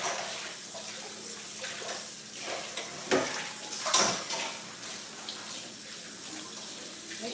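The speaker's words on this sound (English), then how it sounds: "Let me wash my hand" A kitchen tap runs steadily while hands are washed during cooking of sweet potatoes and stewed fish, a constant close splashing with a few louder splashes and light clatter.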